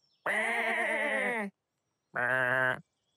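Two loud, wavering sheep bleats close by, a long one followed after a short pause by a shorter one.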